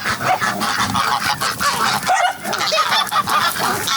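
A flock of farmyard geese honking loudly and continuously nearby, many overlapping cackling calls with some duck-like quacks from farm ducks mixed in.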